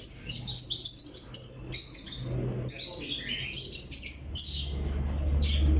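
Rampuri pigeons call nearby in repeated short, bright chirping bursts, with a low rumble underneath.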